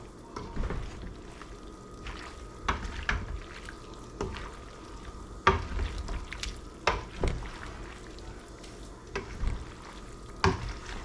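Papaitan soup being stirred in a pot, with repeated irregular knocks and scrapes of a ladle against the pot over a faint bubbling background, spaced a second or two apart.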